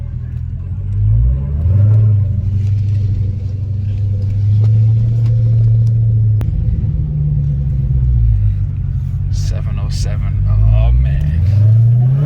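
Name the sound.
Dodge Hellcat Charger engine rumbling and accelerating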